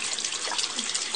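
A thin stream of water trickles and splashes steadily at close range, poured over a tattoo bandage to loosen it, a soft continuous hiss that holds level for about a second.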